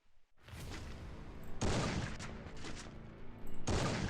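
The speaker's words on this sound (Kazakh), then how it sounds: "аналар атысып отыр" Gunfire in the battle royale game Free Fire, with bursts of distant shots and a few heavier booming volleys at irregular intervals, fairly faint with no talking.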